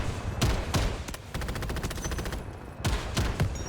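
Rapid bursts of 7.62 machine gun fire in the shooter game Delta Force, several loud clattering volleys of fast repeated shots with brief gaps between them, up close and alone.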